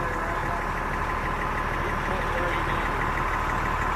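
A fire truck's engine idles in a steady, even drone with a dense low rumble, continuous and unchanging throughout.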